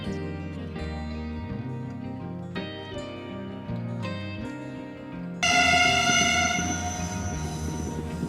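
A train rolls past on a railroad beside a lake, its steady rumble and rattle running throughout, with a bright, loud tonal screech or horn rising near the end.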